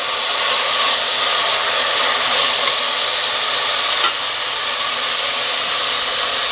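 Green chillies and tomatoes frying in a pan for a Telugu amaranth and chana dal curry: a loud, steady sizzling hiss that continues throughout, with a faint stir or clink partway through.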